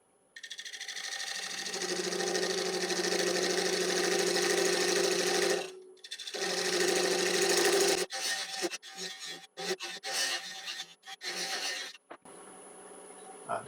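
An oak platter spinning on a lathe while a diamond parting tool cuts into it, giving a loud, continuous rasping scrape that pauses briefly, then turns into short intermittent bursts of cutting.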